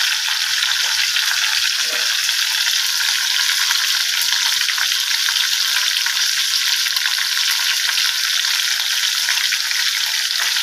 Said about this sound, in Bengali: মাছ ভাজাতে 4 পিস মাছ নিয়েছি